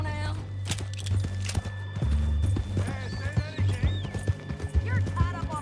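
Horse hooves clip-clop in an irregular walking rhythm in the video game Red Dead Redemption 2, with a horse neighing and whinnying, while a person talks over the sounds.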